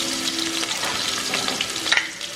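Onion, garlic, ginger and dried red chili sautéing in sesame oil give a steady, close hiss and crackle with a few soft stirring scrapes, and no one is talking.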